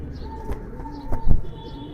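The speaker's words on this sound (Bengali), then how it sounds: "এই যে দেখেন কবুতর অনেক ছটফটে কবুতর" A restless female racing pigeon coos nearby. Soft low coos and a few thumps of movement or wing flutter sit over a steady background hum, and no one speaks.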